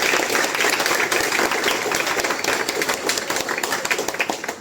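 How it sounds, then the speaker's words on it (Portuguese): Strong audience applause welcoming a speaker at a business talk, dense steady clapping from a large crowd lasting the whole few seconds and fading slightly at the end, with only faint voices underneath. "Eu queria uma salva de palmas bem forte para Igor, para ele iniciar a palestra."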